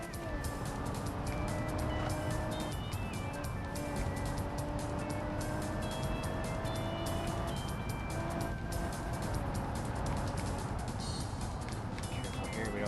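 Audi A6 in the BeamNG driving game held at full throttle, a steady loud engine drone with shifting pitch running continuously, with faint talk barely audible underneath.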